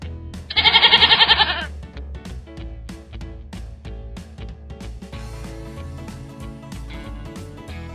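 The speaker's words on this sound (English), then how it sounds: "It's a goat." A goat on a farm gives one loud, wavering bleat lasting about a second, heard over steady background music in a toddlers' animal guessing game.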